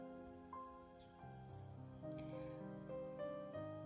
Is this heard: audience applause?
no